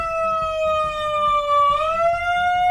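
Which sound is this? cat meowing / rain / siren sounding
siren sounding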